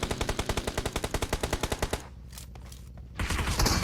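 Rapid automatic gunfire rattles in a fast, even burst during a video game shootout, then cuts out briefly before more loud shots resume near the end.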